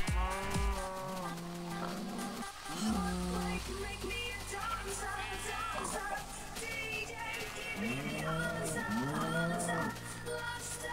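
Cows moo among sheep, pigs and a chicken on a Minecraft farm, with repeated drawn-out lowing calls near and far over game music and other animal sounds, no speech heard.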